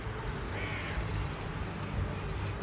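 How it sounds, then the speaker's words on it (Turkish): Crows caw while chasing a hawk that has taken a pigeon, with faint calls standing out over steady outdoor noise. "Bütün kargalar, martılar şimdi atmacanın peşinde."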